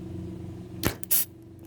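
A spray can hisses onto a 1992 Chrysler LeBaron convertible in two short bursts, a sharp puff followed by a longer spray, close and loud over a low idle-like hum.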